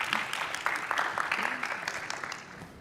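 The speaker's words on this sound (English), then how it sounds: "let's give him a round of applause" A small audience at an engineering summit gives a brief round of applause, a short, fairly quiet burst of clapping that tapers off within a few seconds.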